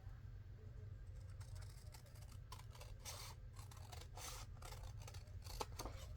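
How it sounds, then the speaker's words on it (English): Scissors snipping writing paper while trimming a library pocket for a fall-themed craft, a quiet series of close, crisp cutting snips over a steady low background hum. "So let me cut just a little bit off of the side."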